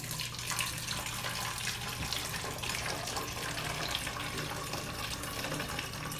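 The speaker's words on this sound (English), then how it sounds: "Now I'm going to pour my bleach water into my bottle." Bleach water poured slowly through a funnel into a bottle, a steady close trickling and gurgling stream of liquid that runs continuously without talk.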